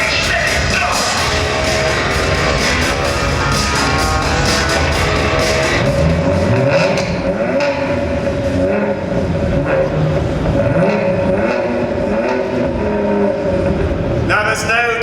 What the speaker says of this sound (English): there's no denying that's the sound of an engine